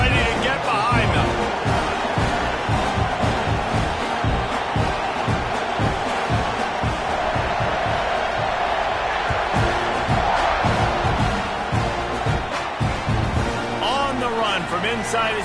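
A football stadium crowd before kickoff at a Missouri versus Texas A&M game roars in a dense, sustained wall of cheering and noise that stays loud throughout.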